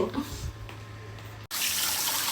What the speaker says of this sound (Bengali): এখন আমি মাছ ধুয়ে দেখাবো।